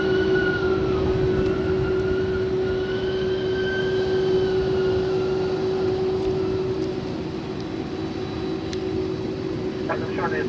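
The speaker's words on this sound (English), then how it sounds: "Must be big braking power on that MD-11, man" A UPS MD-11 freighter lands and brakes hard on the runway at Louisville, giving a loud, steady jet roar with a strong sustained tonal whine throughout, heard up close.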